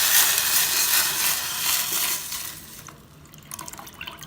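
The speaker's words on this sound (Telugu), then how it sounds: "ఆ రసం కూడా దీంట్లో పోసి" Tomato rasam pours in a steady liquid rush into a pot of tempering, the splashing fading partway through into lighter drips and small clatters.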